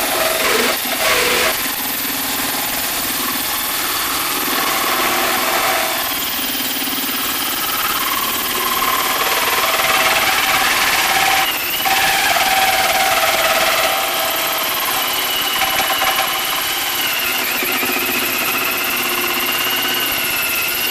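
A hole saw grinds steadily through the metal layers of an ammo box, a loud, continuous whining drone that runs unbroken for about twenty seconds, with a few brief surges.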